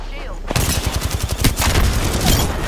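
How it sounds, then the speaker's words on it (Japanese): Gunfire in the battle royale game Apex Legends, a sudden rapid automatic burst of close, loud shots starting after a brief quiet moment and continuing steadily to the end. "なんかすごい銃声してる、この辺。"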